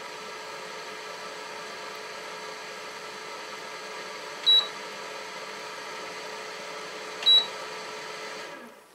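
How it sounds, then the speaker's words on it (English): KJOY heated bidet smart toilet seat with an electronic seat giving two short, sharp beeps a few seconds apart over the faint, steady whir of its fan, close by and quiet, with no talking. "if I sit down on this, you can hear that it beeps. And I can give you the sound of the fan."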